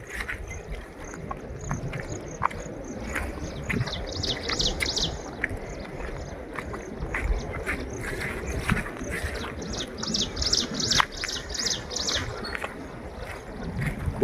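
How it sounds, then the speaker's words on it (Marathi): Birds chirping and singing in rainy Konkan countryside near a dam, bright repeated calls in short bursts over a soft background of rain and ambient noise. "साऱ्या पक्ष्यांचे आवाज येत आहेत मस्तपैकी"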